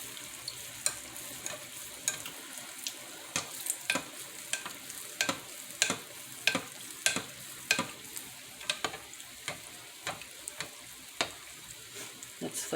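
Gingerbread pancake batter on a stick cooks in a hot pan with a steady, soft sizzle, punctuated by regular sharp clicks and taps from stirring or handling, close and fairly quiet.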